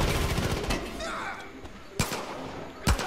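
Gunfire in the Far Cry 5 video game: a muffled burst of shots early on, then two sharp, separate reports near the end, over a busy game background.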